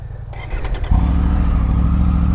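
An off-road trail motorcycle engine, idling roughly at first, then revved hard on the throttle into a loud, steady high-rpm roar, close by, with no voices.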